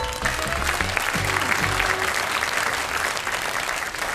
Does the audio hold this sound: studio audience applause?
yes